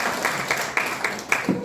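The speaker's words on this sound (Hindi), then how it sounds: "एक बार ताली बजा लीजिए अपने लिए।" Audience members at a Bahujan Samaj Party training camp held on Constitution Day clap together, a dense crackle of hand claps that stays steady and moderately loud throughout, with a few sharper bursts standing out from the crowd.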